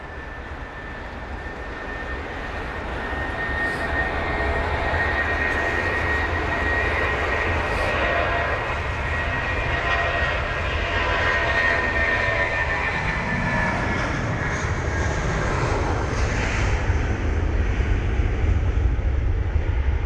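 An airplane departs in wet weather at London Heathrow, its jet roar building from quiet to a loud, sustained rumbling whoosh close by, with rain spray noise and a steady high engine whine throughout.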